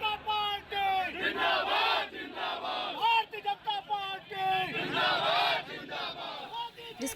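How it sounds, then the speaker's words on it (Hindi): A crowd of protesters chants slogans against Rahul Gandhi in Raebareli, with rhythmic, shouted call-and-response bursts rising and falling throughout, fairly close and loud, over faint traffic rumble. "राहुल गांधी वापस जाओ के नारे लगाने लगे"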